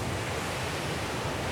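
Ocean surf rolls onto the shore of Orchid Island, Taiwan, in a steady, loud, continuous wash of broadband noise with low rumble and wind, no voices.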